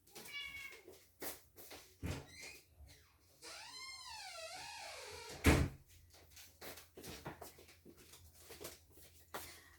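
A house cat in a craft room meows in a long, wavering cry to be let out, set among sharp knocks and clatters of a door or cupboard nearby.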